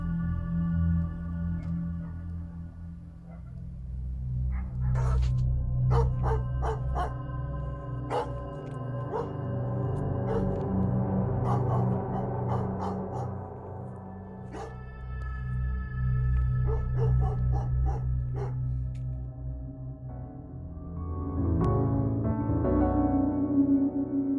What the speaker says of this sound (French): Souvent, les centaines de chiens aux alentours aboient pendant de longues heures.